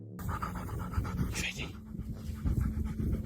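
A dog on a walk in the hills pants steadily and rhythmically close by, quick breaths repeating over outdoor background noise.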